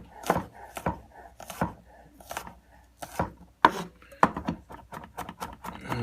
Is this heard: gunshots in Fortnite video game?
no